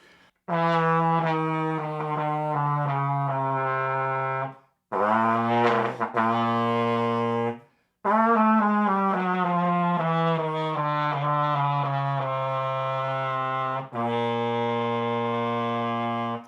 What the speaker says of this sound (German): kann ich jetzt mit dem Quartventil auch noch weiter Töne auffüllen.